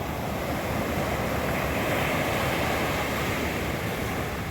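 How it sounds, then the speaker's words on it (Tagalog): Strong ocean waves surging and crashing in a continuous roar, with wind buffeting the microphone and no voices. "Medyo malakas ang alon."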